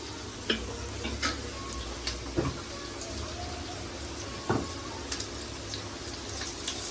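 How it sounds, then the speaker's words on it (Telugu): Onions frying with ginger-garlic paste in a pan for chicken curry, a continuous close sizzle with scattered crackles and occasional stirring knocks, and only faint traces of voice. "ఆనియన్స్ బాగా ఫ్రై అయ్యాక అల్లం వెల్లుల్లి పేస్ట్ వేసుకున్నామండి"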